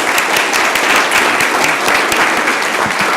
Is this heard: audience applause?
yes